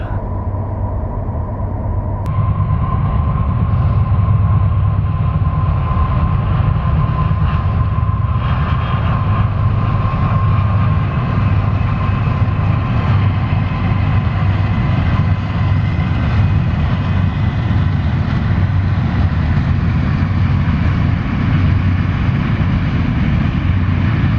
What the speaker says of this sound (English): there is a train that's coming